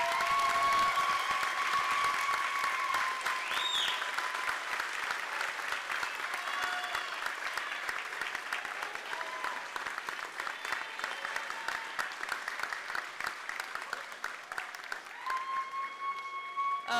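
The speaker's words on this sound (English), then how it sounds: "please join me in giving them the recognition that they deserve with a round of applause" A graduation commencement crowd gives a sustained round of applause for graduates' loved ones, dense continuous clapping with faint cheering filling the hall for the whole stretch.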